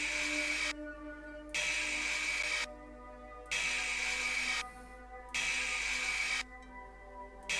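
Grinding a sword blade at the grindstone in the Fantasy Blacksmith video game: a steady, harsh mechanical whir that runs in bursts of about a second, stopping and restarting several times, with a quieter hum between passes and no talking.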